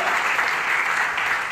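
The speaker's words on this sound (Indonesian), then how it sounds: "Maka aplaus untuk PTBES" Audience applause at a seminar, a dense, steady burst of clapping from a crowd, loud and continuous throughout.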